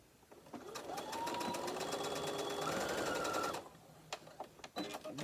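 Sewing machine stitching a seam along the edge of a fabric book sleeve, running steadily for about three seconds at close range, then stopping, with quiet handling noises before and after.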